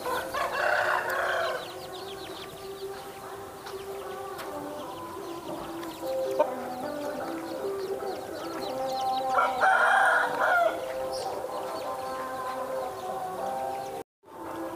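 A ten-month-old fighting rooster of good breeding, offered for sale, crows loudly and close by in long calls, with clucking and other fowl around it and no speech.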